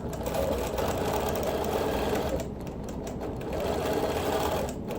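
A sewing machine does ruler-work quilting on a log cabin quilt with contrasting thread, its stitching running at a fast steady whir, loud and close, with a brief slowdown midway before resuming.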